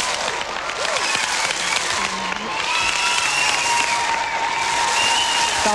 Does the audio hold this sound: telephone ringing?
no